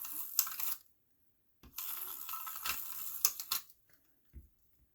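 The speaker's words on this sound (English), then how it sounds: "I'm going to put dry adhesive down this." A dry adhesive tape runner is pressed along a craft card surface, giving two bursts of close, scratchy clicking and rasping separated by silence, then a faint tap at the end. No one speaks.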